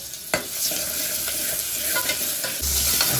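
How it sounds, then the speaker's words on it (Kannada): Onions frying with ginger garlic paste in hot oil, a steady close sizzle with a few clanks of a spoon stirring the pan. "ಇವಾಗ ಶುಂಠಿ ಬೆಳ್ಳುಳ್ಳಿ ಪೇಸ್ಟ್ ಹಾಕ್ತವ್ರೆ"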